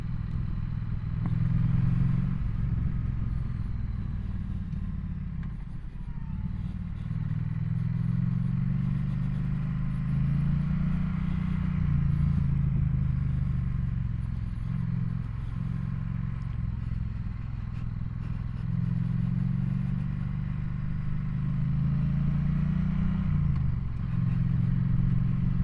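A dual sport motorcycle rides steadily along a hard packed, dry gravel road, its engine droning low and continuous with slight rises and dips in pitch, under a constant wash of tire and wind noise.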